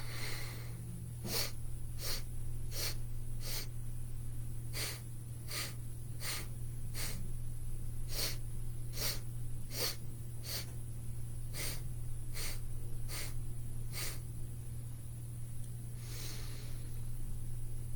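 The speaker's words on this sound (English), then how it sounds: "So 4 sniffs in and 4 equal sniffs out." Segmented nasal breathing in sets of four short sniffs in and four out, a steady series of crisp, close sniffs in even groups over a constant low hum, with no talking.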